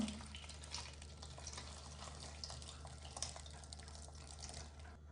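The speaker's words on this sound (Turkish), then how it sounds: "Şimdi üzerine sıcak su ekliyorum." Hot water poured over scored tomatoes in a bowl, a steady close-up splashing and gurgling stream that runs on without a break for several seconds.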